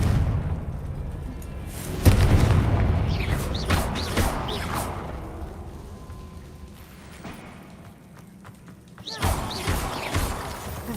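A Confringo fire spell bursting in the game Hogwarts Legacy, heavy booming impacts with crashing debris and whooshes, a loud hit near the start and another near the end, with no voices.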